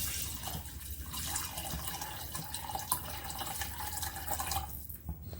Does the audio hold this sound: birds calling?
no